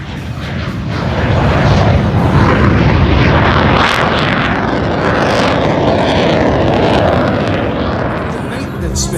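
An aircraft at the Sacramento airshow in California roars loudly and close, a dense continuous rush that swells to a peak and slowly eases off over several seconds.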